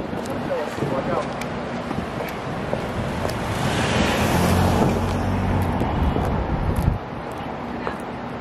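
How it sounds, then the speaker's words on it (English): Busy Boston city traffic fills the street with a steady, loud roar, mixed with gusty wind noise and the faint sound of voices. "at least we came this way so I can show y'all Boston traffic."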